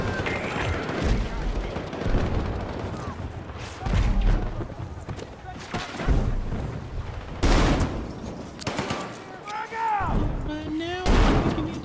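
Mortar fire in a battle video game sounds as repeated booming blasts and rumbling explosions at irregular intervals, with people talking and reacting over the gunfire.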